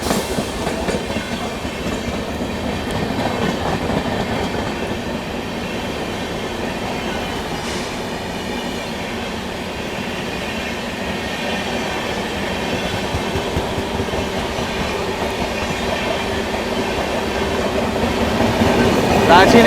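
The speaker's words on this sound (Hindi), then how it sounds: "रांची नई दिल्ली राजधानी एक्सप्रेस" Ranchi–New Delhi Rajdhani Express passing close by, a steady loud rumble of rail wagons with faint clickety-clack and wheel squeal that swells toward the end.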